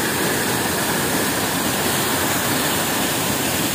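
Water pours steadily over the Bandlaguda Jagir waterfall near Hyderabad, a loud, dense, unbroken rushing roar heard up close with no voices.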